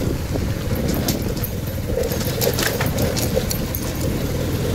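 A motorbike rides along steadily at night with a constant engine rumble and road noise, loud and continuous throughout, with no speech.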